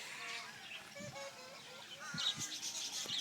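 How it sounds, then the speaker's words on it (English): Budgies at the Reston Zoo chirping and twittering in a faint, busy chorus of high trills and short calls, with soft nearby rustles and occasional low voices. "You're such a friendly little bird, aren't you?"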